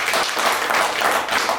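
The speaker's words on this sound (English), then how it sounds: "Let's give her a big round of applause." Audience applause at a boxing press conference, a dense, even wash of clapping that holds steady and fills the room.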